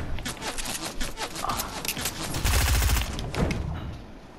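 Rapid bursts of gunfire in the video game Fortnite, loud and dense, with repeated shots in quick succession and a heavier stretch of firing toward the middle.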